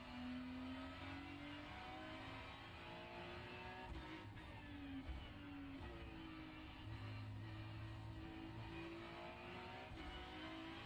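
Race car engines in the iRacing video game hum and whine at steady high revs, with several cars' tones rising and falling as they shift and jostle, a continuous mechanical drone with no talking.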